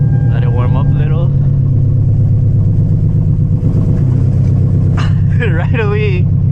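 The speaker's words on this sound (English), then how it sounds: "Clutch in. Let it warm up a little." Hyundai Genesis Coupe engine idling while warming up with a misfire, a loud steady low rumble throughout, with a person talking over it.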